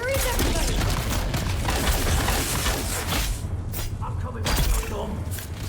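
Rapid bursts of gunfire from the video game Dune Awakening with thuds and crashes, dense and loud, fading into scattered shots near the end.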